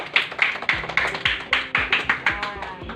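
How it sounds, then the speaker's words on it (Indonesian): A primary school class claps in a steady rhythm, with about a dozen sharp, evenly spaced claps close by in a room. "Minta tepuk tangan dulu untuk teman kalian."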